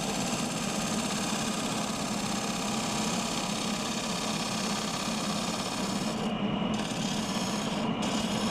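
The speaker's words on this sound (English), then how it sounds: "it's finally ready for sanding, starting with 60 grit and going up through 320" Steady, continuous abrasive rubbing of sandpaper on a wooden yarn bowl, worked through grits from 60 to 320, a constant gritty hiss with an underlying machine hum and no pauses.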